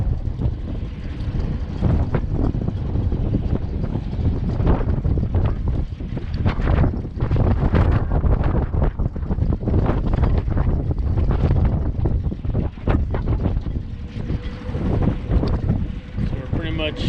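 Wind buffets a sailboat heading nose into the wind, a gusty rushing roar with irregular bursts of microphone rumble and hull and water noise throughout, loud and close.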